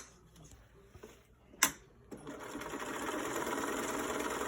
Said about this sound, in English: So I'm going to sew along the top edge and the bottom edge, but leave the ends undone.